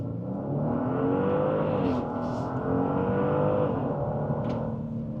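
A 2026 Genesis GV70 with a V6 engine pulls hard off a launch-control start, a steady rising growl of revs heard from inside the car, loud and continuous, climbing through a gear shift with no talk.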